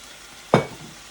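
Bread hits olive oil in a hot pan with one sudden sharp sizzle that quickly fades to a faint hiss, close and brief, against quiet kitchen background.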